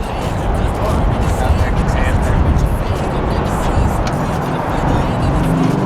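A car drives a twisty road with a loud, steady engine and road roar filling the cabin throughout, while people talk over it.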